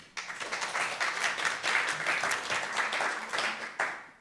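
An audience applauds to welcome author Alex van Stipriaan onto a Studio Erasmus talk stage, a steady wash of claps that starts abruptly and holds at an even, moderately loud level for about four seconds with no talking.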